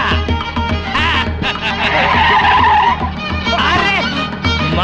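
A car is driven at high speed, with a loud continuous engine roar and squealing tires blended into a busy dramatic mix.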